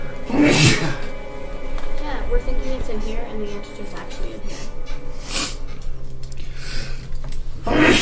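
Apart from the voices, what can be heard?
a sneeze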